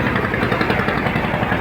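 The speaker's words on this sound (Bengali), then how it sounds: "জাহাজ ছুটে চলেছে, বড় একটি জাহাজ চলে যাচ্ছে।" A large river launch passing near Barisal, its engine a dense, steady low rumble with a faint pulsing throb, loud and continuous.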